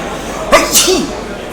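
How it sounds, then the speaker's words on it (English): A single sharp sneeze bursts out, close and loud, followed by a brief breathy tail, then quiet room noise. "I'm gonna sneeze."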